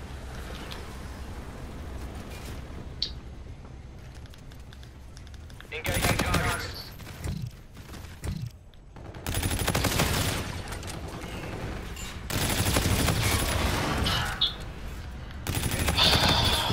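Bursts of video game gunfire from a shooter match with a nuke killstreak, coming in several loud, dense volleys separated by quieter stretches, with occasional talk over the top.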